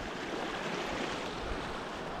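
A small waterfall formed by the overflow from a Scottish loch in Glenisla gives a continuous, dense rushing roar of falling water, close and steady for the whole moment.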